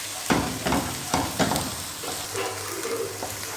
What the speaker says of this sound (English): Half cup chopped onion, 3 green chili chopped and fry for 30 seconds.